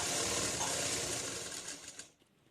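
A sewing machine stitches two layers of chudidar pant fabric together, a close, steady whirring run of needle strokes that slows and stops near the end.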